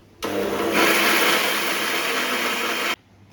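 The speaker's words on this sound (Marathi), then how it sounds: "आता परत मिक्सरला लावणार." A kitchen mixer grinder grinds garlic and coconut for chutney, switching on abruptly with a loud whirring roar, running steadily for under three seconds, then cutting off sharply into quiet.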